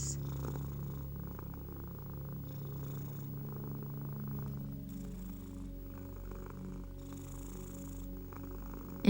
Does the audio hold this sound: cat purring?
yes